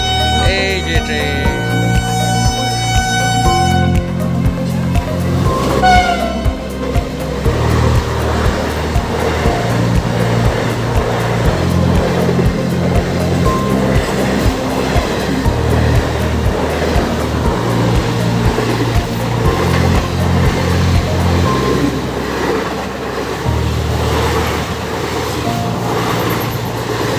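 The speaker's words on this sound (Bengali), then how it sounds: "ট্রেনটা আসতেছে, এই যে ট্রেন।" A train rolls past nearby, its heavy rumble running under loud background music, with a sustained horn-like tone in the first few seconds.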